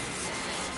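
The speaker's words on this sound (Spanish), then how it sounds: "Y ahorita pues ya estamos en el lijado" Steady, continuous sanding on the body of an Audi A1 being prepared for paint after filler primer. The rubbing is close, even and unbroken throughout, with no voices.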